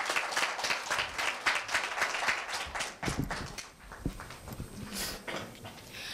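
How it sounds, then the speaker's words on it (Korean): Audience applause welcoming a third-year middle school student speaker at a student speech festival, broadband clapping filling the hall for about three seconds, then thinning into scattered claps and room noise. "힘찬 박수로 맞이해 주시기 바랍니다."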